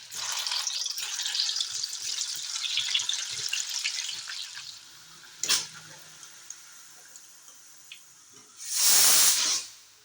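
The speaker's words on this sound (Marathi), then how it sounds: "तर इथे मी आता वडी तळली" Vadi fries in hot oil with a crackling, bubbly sizzle that fades away midway, followed by a sharp pop and then a loud burst of hissing spray close by near the end.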